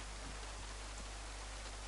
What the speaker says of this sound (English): hearing the rain hit off this metal roofing